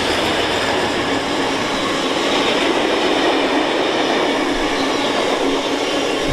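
Freight train hauling oil tankers passes through Tamworth station on the West Coast Main Line, a continuous loud rumble with clattering wheels and rail noise sustained throughout, close by and heard alone.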